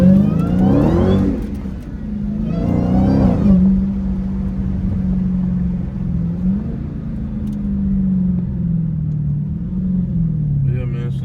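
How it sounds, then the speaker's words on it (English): A Dodge Hellcat slides through neighborhood turns, its engine revving up in two surges before settling into a loud, steady rumbling drone heard from inside the car, with brief voices early on. "Yeah, man, sliding every turn in the hood"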